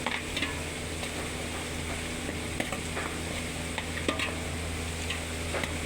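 Onions fry in a pan for chicken biryani, giving a dense, continuous sizzle with scattered crackles and light ticks, close and steady throughout.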